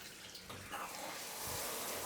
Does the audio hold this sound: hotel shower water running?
yes